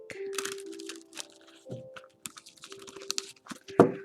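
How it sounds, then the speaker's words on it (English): A deck of tarot cards is shuffled by hand, giving close, crackling flicks and riffles in irregular bursts, with a soft tonal hum in the background and a sharper snap near the end. "I just like to give it a nice shuffle again when I tune in into the people who picked this specific deck"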